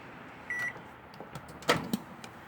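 An outdoor Hamilton Beach microwave is opened to check bacon: a short electronic beep, then a click and clunk of the door latch and door swinging open, all brief and close.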